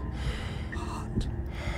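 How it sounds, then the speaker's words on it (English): A sharp gasp for breath from a character in the video game Slay the Princess, a short intake of air over a steady low background hum. "Again, your eyes shoot open as you gasp for breath."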